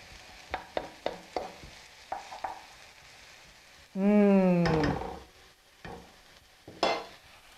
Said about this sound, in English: Let them saute a minute or two just to soften a bit.